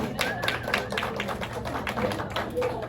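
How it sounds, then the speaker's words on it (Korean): A small group of teachers at a church training session clap to encourage the first group's representative, a loose patter of scattered hands with some taps and faint murmuring underneath. "우리 1조, 우리 대표, 우리 박수를 한번 우리 격려하겠습니다"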